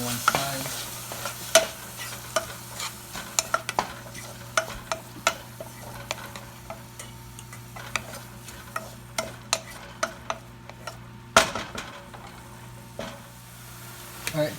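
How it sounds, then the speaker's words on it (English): Steady frying sizzle of fish curry with a spoon repeatedly scraping and clacking against the pan as it is stirred, close and fairly loud, no voices. "it has been about a minute and it's still frying"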